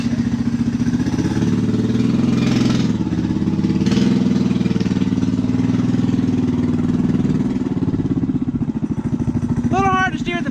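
A rat rod engine idles and runs with a clattering, throbbing note as the car is driven out of the shop, loud and close throughout, with a voice speaking over it near the end.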